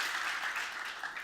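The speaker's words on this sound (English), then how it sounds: "Give him a big applause" Brief burst of audience applause at a Superangel founder stories event, a dense wash of many hands clapping together, steady and moderately loud, lasting only about a second.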